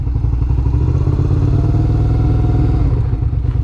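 A sports motorcycle engine runs close and loud, a steady throbbing rumble with rapid rhythmic pulsing that holds constant throughout, no talk.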